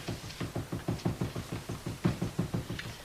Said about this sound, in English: That thumping noise, can't you hear it? It's next door.